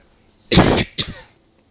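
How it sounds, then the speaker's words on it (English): One person coughs twice at close range, with a short, forceful first cough and a brief second one after a pause. Nothing else is heard around the coughs. "Seems I have a bit of a cough today."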